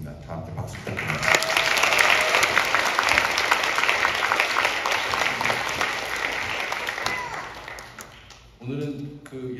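Sustained applause from a large audience at a gospel concert fills the room for several seconds, fading out as a voice begins speaking.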